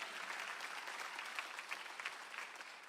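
Congregation applauding during a Sunday afternoon church service, a sustained even wash of many hands clapping together, somewhat distant and soft.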